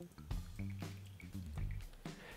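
Espresso from a LeverPresso manual lever espresso maker drips and trickles into a cup, a close run of wet drips and squishy pulses with short gurgling bursts.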